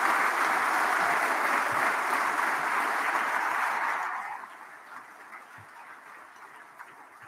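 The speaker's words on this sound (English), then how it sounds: "Let's have one last round of applause for all of our graduates." An audience applauds the graduates at a 2022 Myerscough College and University Centre graduation ceremony; steady, even clapping fills a hall for about four seconds, then quickly dies away into quiet room tone.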